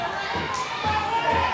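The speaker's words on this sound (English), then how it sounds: "this Pro Wrestling 225 crowd trying to get behind him" A live Pro Wrestling 225 crowd at a wrestling show swells with cheering and shouting, a brief rising roar behind a commentator who talks over it.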